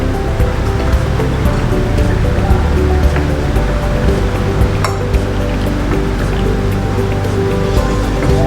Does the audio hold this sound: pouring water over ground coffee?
yes